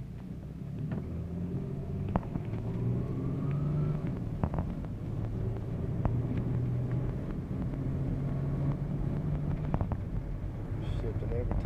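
A 2000 Lexus RX 300 driving with its newly swapped transmission, a steady low road and engine rumble with wind noise throughout, faint shifts barely standing out; occasional voices under it.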